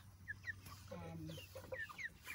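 Chickens on an organic farm's grass pasture, moved daily to fresh ground, give scattered soft clucks and short calls near at hand against a steady low outdoor hum.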